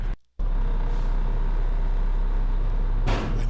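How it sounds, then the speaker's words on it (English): Dump truck at a highway demolition site rumbling steadily close by, with one sharp metallic tailgate slap against the bed near the end. "And you hear the tailgate slap."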